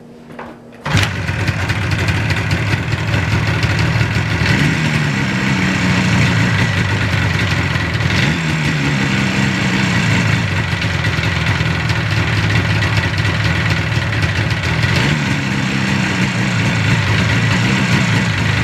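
A Yamaha RD400 motorcycle engine fitted with new Mikuni carburetors fires up and settles into a steady, loud two-stroke idle around 1200 rpm, running alone with small revs rising and falling.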